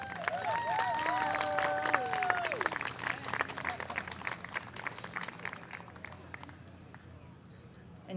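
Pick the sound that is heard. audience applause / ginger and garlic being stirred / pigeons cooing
audience applause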